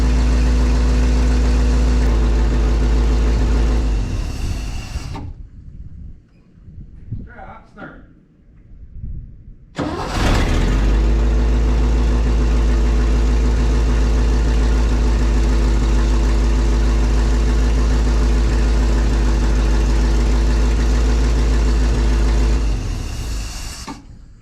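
An International C65 farm truck engine running steadily at idle, a loud low rumble that cuts out for a few seconds midway, where voices and clanks are heard, then restarts and idles on until it shuts off.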